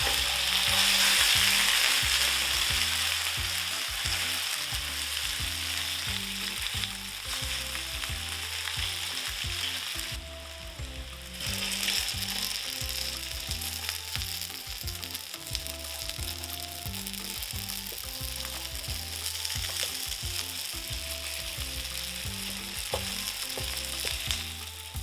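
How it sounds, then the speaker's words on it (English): Dumplings sizzle and crackle steadily in a hot pan, a dense continuous frying hiss with no talking, briefly quieter midway before picking back up. "So as you're frying the dumplings, try not to move it too much."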